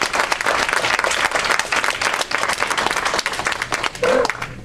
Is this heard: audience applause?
yes